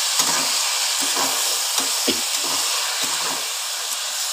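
Boiled Malabar spinach seeds with their stalks stirred in a pan, spoon scraping in short repeated strokes over a steady sizzle and hiss, close and fairly loud, with no talking.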